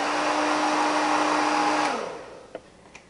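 A hair dryer blows air at curly hair as a loud, steady whirring hum, then switches off and winds down near the end, leaving a couple of faint clicks.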